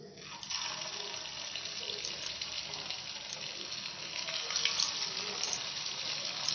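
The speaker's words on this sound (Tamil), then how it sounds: "ஒவ்வொரு வாழைக்காயாக போட்டு ஃப்ரை பண்ணிக்கலாம்." Plantain pieces fry in hot oil in a kadai, a dense steady hiss and crackle of bubbling oil that swells slightly toward the end, heard close with no voices.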